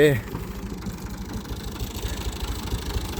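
Tractor engine idling with a rotavator attached on a farm field, a steady low rumble close by with a mechanical knock, and someone talking over it at the start.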